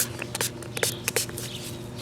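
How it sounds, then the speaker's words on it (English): A spray bottle misting tie dye onto fabric, with a series of short, sharp spritzes at an irregular pace over a constant low hum, close up and with no talking. "I'm just going to keep spraying"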